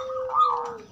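A local zebra dove (perkutut) gives a short, clear cooing call in the open, a steady soft tone with a slight swell in the middle, close and alone without voices.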